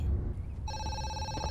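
A telephone in a video game breaks into a steady electronic ring after a brief low murmur, the tone sustained and fairly clear with no one talking over it.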